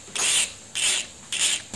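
A repairer's diamond file sharpens the tip of a tool in three distinct, even rasping strokes, each a short scratchy burst separated by brief quiet gaps, close up and fairly soft.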